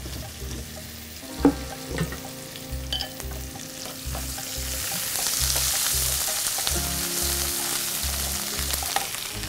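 Chopped onion, garlic and dried chillies fry in oil, giving a continuous close sizzle with rhythmic stirring thumps and scrapes, the hiss growing brighter partway through.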